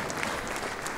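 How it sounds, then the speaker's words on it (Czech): Steady audience applause rings out after a children's musical staged by a primary art school in Jičín, a dense, even wash of clapping from a full hall with no voices over it. "za ten potlesk těm dětem, že si to moc zaslouží."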